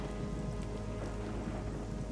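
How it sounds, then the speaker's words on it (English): Steady, dense rain hiss falls from a cartoon rain cloud in an animated My Little Pony episode, continuous and fairly loud with no voices. "This looks like someone's got a rain cloud over their head"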